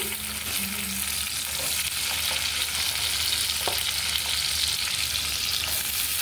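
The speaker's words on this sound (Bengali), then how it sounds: "তেল গরম হয়ে গেলে এরপর আমি কিছুটা রসুন দিয়ে দিচ্ছি" Garlic sizzles in hot oil in a pan, a loud, even crackle held close throughout, with a few small spits and stirring touches and no voices.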